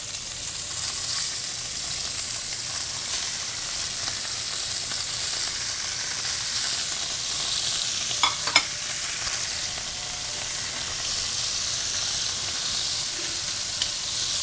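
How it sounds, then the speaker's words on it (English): Short ribs searing in a hot pan give a steady, loud sizzle that fills the whole stretch, with a few brief clinks or stirs near the middle and no talking. "we have to get a nice, beautiful sear on these short ribs"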